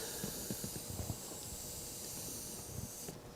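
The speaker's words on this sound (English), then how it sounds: "Now I'm gonna just basically steam press it" A hot iron presses a damp rag onto a dent in old wooden furniture, releasing a steady, close steam hiss with faint crackles and small pops throughout, fading at the end.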